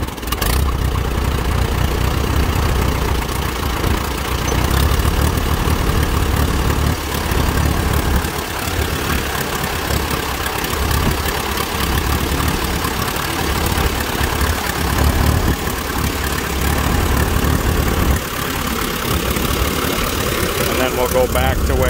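An Allis Chalmers WD tractor engine runs rough while baling, chugging unevenly at idle in a loud, steady, close drone; someone talks over it.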